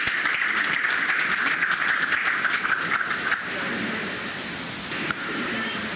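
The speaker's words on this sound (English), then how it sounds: "Please applaud for Nigeria." A crowd at an official launch event in Abuja claps steadily in a dense, sustained wash of applause that thins out slightly partway through and then carries on.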